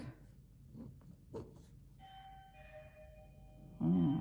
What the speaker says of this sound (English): Just had the doorbell ring.